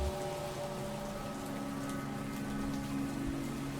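Rain falling at a graveside, a steady soft patter that stays even throughout, with a faint low hum beneath it.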